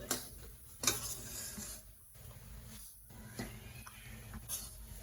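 Spoon stirring a thick mixture of dates and dry fruits in a pan for khajur pak, quiet scraping and soft clinks repeating in irregular strokes, close but faint.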